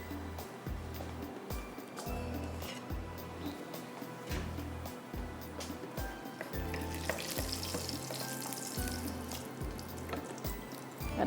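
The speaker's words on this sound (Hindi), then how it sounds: "यहाँ पर मिर्ची हल्की सी फ्राई हो रही है।" Chillies frying lightly in a pan give a steady broadband sizzle, with a repeating low thumping underneath and a brighter hissing burst partway through.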